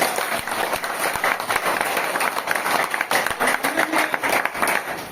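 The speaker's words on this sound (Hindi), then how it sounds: "डॉक्टर ली के लिए जोरदार ताली।" An audience at a DXN seminar applauds Dr. Lee with dense, sustained clapping that stays loud and steady throughout, close and filling the room.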